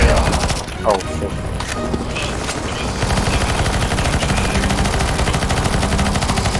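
Rapid automatic gunfire fills a CSGO co-op Nazi zombie game as players shoot at a boss, with loud, dense bursts running almost continuously and a few heavier shots mixed in. Voices are faintly audible under the shooting.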